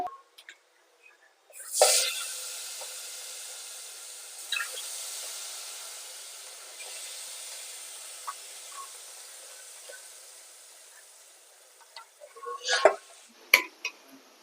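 Chicken biryani meat pieces are dropped into a pot over rice, with a loud initial plop, soft wet squishes and a clatter of utensils near the end; close and moderate in level, with no talking.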